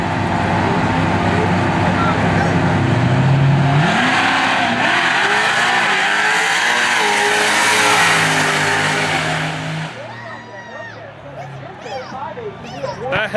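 Hellcat Charger and a Fox body car drag racing down a 1/8 mile strip at a Houston street car event: loud, roaring engines rev and climb in rising sweeps, then the roar fades and the cars pull away into the distance.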